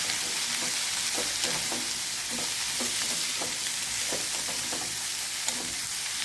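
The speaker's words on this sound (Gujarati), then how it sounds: "હવે એમાં આપણે હળદર ઉમેરી દઈશું અને થોડીક વાર માટે સાતળી દઈશું" Sliced cabbage and carrot with turmeric sautéing in a pan, a steady close sizzle with repeated scraping stirs of a spoon running throughout, no voices.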